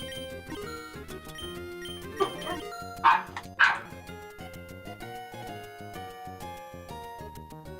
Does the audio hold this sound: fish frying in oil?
no